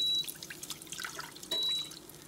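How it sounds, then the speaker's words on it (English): Water poured from a cup into a Power XL electric cooker pot, a short splashing pour that comes in two bursts, close and fairly quiet, with no talking. "I'm gonna pour my 1 cup of water in here"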